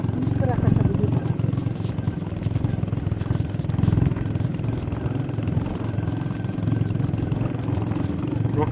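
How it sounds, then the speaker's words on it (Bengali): A motorbike rides along a remote rural road in southern Khulna, its engine a steady low drone throughout, with voices talking over it. "প্রকৃতির সাথে তোমার বাইকের সাউন্ডটা একদম মিলেমিশে একাকার"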